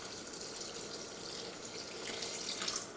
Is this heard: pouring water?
yes